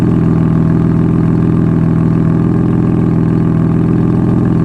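A tuned BMW F82 M4 with downpipes and its exhaust valves open idles loudly and steadily, a deep, even rumble holding without change throughout.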